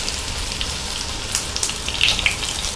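Brinjal slices frying in hot oil for a Tamil kathirikai varuval side dish, a steady soft crackle and bubbling sizzle with a few sharper pops, close and continuous without talk.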